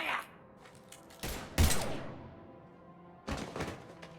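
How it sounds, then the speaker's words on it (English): Scattered gunshots in Mass Effect: Legendary Edition, a few sharp cracks and thumps in short clusters with quiet gaps between them. "Now open fire!"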